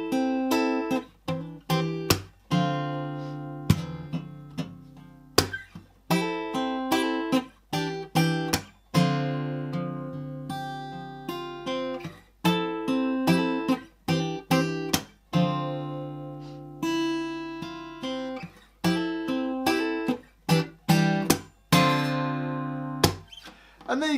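Guitar playing a song at full speed, picked chords and melody notes in a steady flowing rhythm, close and clear, continuing alone for the whole stretch.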